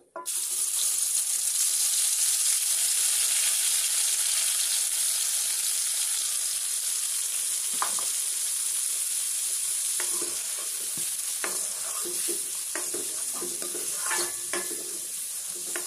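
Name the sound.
ground spice paste sautéing in hot oil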